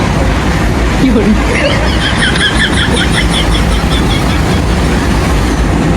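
A train rumbles steadily past in Ahmedabad, close and loud, with a constant roar and faint high metallic squeals and rattles from the wheels.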